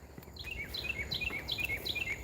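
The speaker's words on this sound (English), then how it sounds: "You hear the birds?" Birds sing in repeated high chirping phrases along a wooded nature trail, several quick bright notes recurring every half second or so, moderately distant over a soft outdoor background with no talking.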